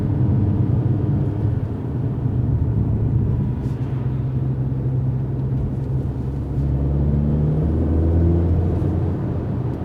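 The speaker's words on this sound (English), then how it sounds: "So we can put it into the Sport Plus, and immediately it downshifts" A 2020 Mercedes CLA45 S AMG engine switched into Sport Plus mode, heard from inside the cabin as a steady, loud low drone that rises in pitch as it downshifts near the end.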